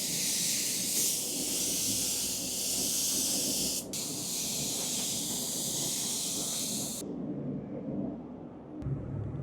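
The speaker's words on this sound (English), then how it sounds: "Spray all of these doors, and then I'll spray them one more time" Spray gun misting primer onto beaded media wall doors, a loud, steady hiss lasting about seven seconds with a brief break partway, then cutting off to quieter background rumble.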